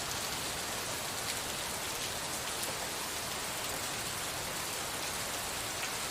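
Steady rain pours down in a scene from the video game Gemini Rue, a dense, even hiss of drops on hard surfaces that holds constant throughout with no voices.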